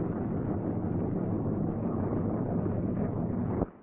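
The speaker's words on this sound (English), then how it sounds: "I'm going to start the left engine." Left engine of a C-47 aircraft cranking and running, a steady rough low rumble with broadband roar, close and continuous before cutting off abruptly near the end.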